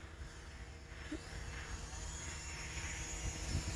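An Eachine Mini P-47 Razorback RC plane at full throttle gives a faint, distant electric motor buzz that slowly rises in level, heard against wind and outdoor background noise.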